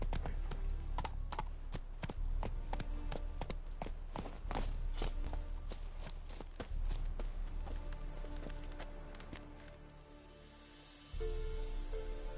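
Horse hooves clip-clopping in The Witcher 3, a rapid irregular run of sharp near hoof strikes that slows and fades, then a low rumble returns near the end.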